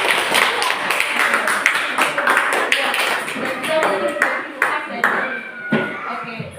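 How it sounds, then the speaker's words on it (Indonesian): Classroom applause for a student group, a quick patter of claps with sharp taps mixed in, fading unevenly with scattered voices underneath. "Berikan tepuk tangan."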